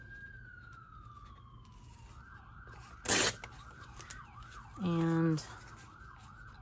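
An ambulance siren wails outside, a falling tone giving way to a wavering yelp, with sharp tearing and crinkling sounds up close indoors and a brief word spoken.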